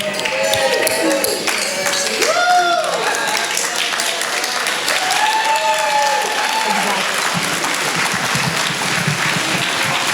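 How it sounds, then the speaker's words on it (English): Wedding reception guests break into sustained applause and cheering for the newly married couple, a dense wash of clapping with whoops and voices rising throughout, steady and loud for about ten seconds. "if we could all cheer"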